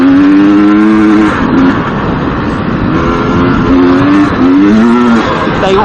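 GasGas EC300 two-stroke dirt bike revving up smoothly and gradually, a close, loud, continuous engine note rising and falling in pitch, with no talk over it.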